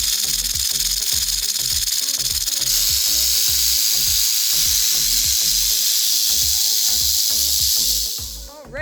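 A rattlesnake rattles in a loud, continuous, dry buzzing hiss, very close, over repeated low thumps, before it tails off at the end.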